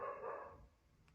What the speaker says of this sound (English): setting dogs off barking now.